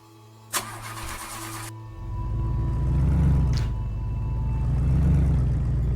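A small car engine in a horror video game cranks briefly, then catches and settles into a loud, steady low drone with slight swells in pitch, no talking over it.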